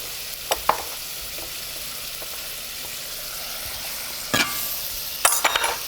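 Butter and a splash of Chablis white wine sizzling in a pan, a soft continuous fizz broken by a few sharp scrapes and clatters of stirring, close by and with no talk.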